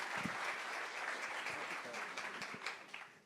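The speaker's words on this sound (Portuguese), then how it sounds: "As palmas aqui do Paniagua já mostrou concordância." Applause from the audience at a Brazilian panel on dam and tailings safety governance, a steady crowd clapping that fills the clip and fades slightly toward the end, with a faint voice in the background.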